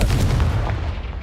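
A Confringo blasting spell explodes in the Hogwarts Legacy video game, a loud, dense boom with a rumbling tail that fades over about a second.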